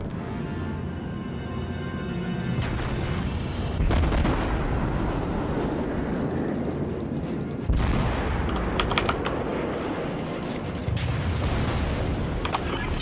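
Naval gunfire in World of Warships, heavy booming salvos landing over a continuous rumbling battle bed, with a big blast near four seconds and another near eight, then scattered further shots.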